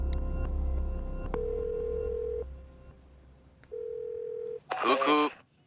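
A telephone ringback tone heard while placing a call, steady sustained tones sounding twice with a gap between them, followed by a brief burst of a voice at the end.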